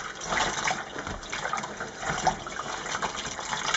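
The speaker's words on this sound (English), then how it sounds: "We're just going to gently stir that really hot water through the fabric" Very hot water being gently stirred through waxed batik fabric coloured with soy wax, a soft continuous sloshing and swirling of liquid at close range, steady and fairly quiet with no talking.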